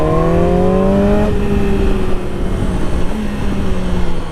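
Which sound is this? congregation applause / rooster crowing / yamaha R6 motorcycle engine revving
yamaha R6 motorcycle engine revving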